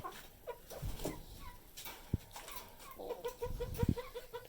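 A hen clucks in short bursts nearby, with a few sharp soft thumps and scuffling among other quiet farmyard sounds.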